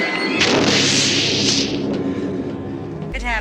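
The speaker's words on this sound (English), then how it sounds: "But then you get something stupid like the exploding parakeet." A parakeet explodes in a horror film scene from A Nightmare on Elm Street Part 2, a loud sustained booming blast with crackling debris that rolls on for about three seconds before a sudden cut.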